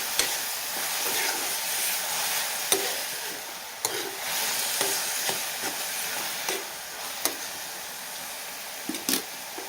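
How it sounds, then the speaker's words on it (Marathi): Ridge gourd with salt stir-fried in a pan, a faint steady hiss broken by sharp occasional spoon taps and scrapes, with no voices. "मी एक चमचा मीठ घालते आणि छान परतून घेऊया"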